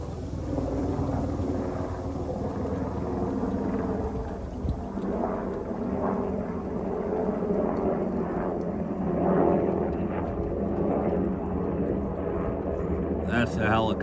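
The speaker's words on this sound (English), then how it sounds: "That's a helicopter." A helicopter's deep, steady rumble and rotor throb fill the scene continuously, loud and close, while a person talks over it.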